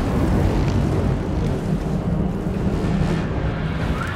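Heavy artillery fire and explosions rumble through a Lizardmen strategy battle in The New World, a dense continuous roar of booms and low thunder with no clear gaps, loud and close throughout.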